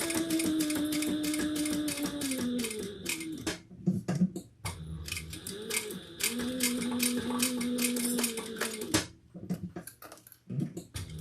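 Sewing machine top stitching the panels of a sling pack, a steady motor whir in runs broken by short pauses and fabric handling.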